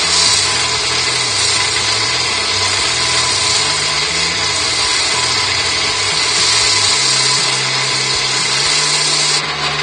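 Friction bowl sander pressed against a wooden bowl spinning on a lathe, a steady, loud whirring hiss from the motor and the abrasive that runs unbroken, close and alone.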